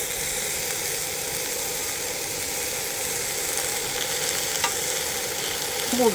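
Frozen pork belly fries on a seasoned cast iron griddle outdoors, a continuous close sizzle and crackle that swells slightly with a few sharper pops near the end, with no talking.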